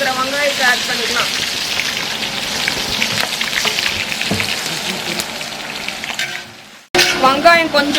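Chopped onions sizzle in hot oil for a large batch of vegetable biryani, a dense steady crackle and hiss with occasional stirring clinks, briefly cutting out before the loud frying resumes.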